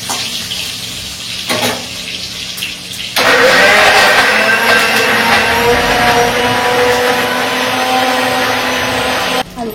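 An electric grinder whirs loudly as it grinds spices in a home kitchen, starting after a quieter stretch and running steadily, with potatoes frying and rice cooking nearby.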